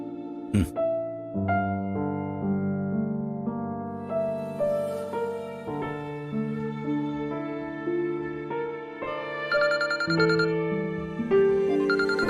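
A phone ringtone plays a bright, repeating melodic tune for about twelve seconds and goes unanswered, steady and moderately loud with no voices over it.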